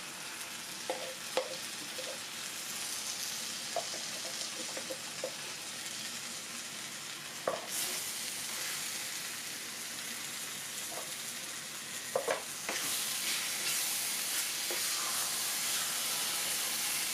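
Beans fry in a hot pan on a stove, a steady close hiss punctuated by occasional scraping stirs, with the sizzle swelling louder for the last few seconds; no voices.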